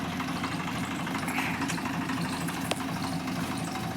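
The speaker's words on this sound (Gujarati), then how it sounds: "ટ્રેક્ટર તો હેડ્યું છે" A tractor engine hauling a load of groundnuts idles and runs in a steady, even low rumble throughout, close by, with a faint brief click near the end.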